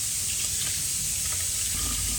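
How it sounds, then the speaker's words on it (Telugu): Tap water pours straight into a pot of rice as a steady, dense rushing hiss that carries on without a break. "ఇప్పుడైతే డైరెక్ట్ వాటర్ పడుతుంది దాంట్లోకి"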